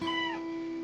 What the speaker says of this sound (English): I found a kitten abandoned near my office